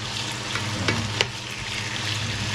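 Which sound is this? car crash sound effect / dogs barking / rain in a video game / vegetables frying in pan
vegetables frying in pan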